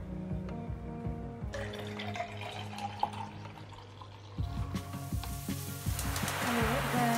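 Cup of water poured while making a pumpkin spice Frappuccino, a faint trickle and splash that builds into a fuller pour near the end, with kitchen clinks and hum beneath.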